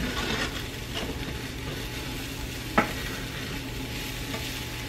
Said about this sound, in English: One more quick stir.